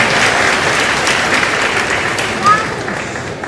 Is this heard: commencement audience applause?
yes